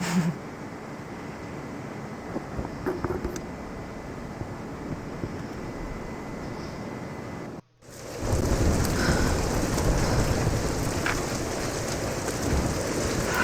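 Steady rain and a thunderstorm rumble through a Tomb Raider game scene, a dense, continuous wash of downpour with brief thunder swells and a sudden cutout near the middle before the loud rain resumes.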